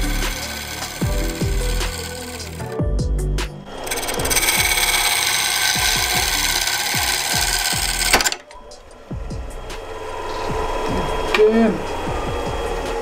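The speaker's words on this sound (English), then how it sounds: "you are going to hear exactly what I have heard when I broke the chisel." A chisel cutting on a lathe while turning a huge wooden bowl, with loud scraping and rubbing, repeated knocks, and an abrupt cut-off as the chisel breaks, followed by quieter clatter and movement.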